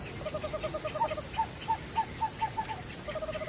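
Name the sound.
barn owl hooting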